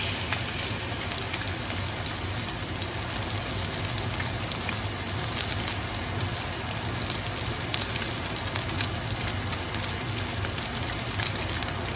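Thin rainbow trout fillets sizzle in a hot pan, a steady close crackle and hiss that carries evenly throughout with no talking over it.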